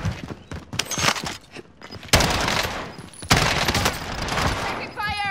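Rapid bursts of automatic gunfire in a tactical shooter game, loud and close, with dense volleys and a brief pause between them and a faint voice-like call at the end.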